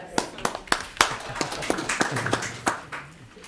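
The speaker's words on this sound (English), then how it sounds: "I guess a little round of applause for that one" A few people clap at a town council meeting, sparse, uneven handclaps spread across a few seconds, fairly close and modest in volume, with speech mixed in.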